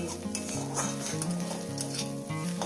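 Dried shrimp and bathua greens fry in a pan with a steady, close sizzle and crackle, broken by the light scrape and clatter of stirring against the pan.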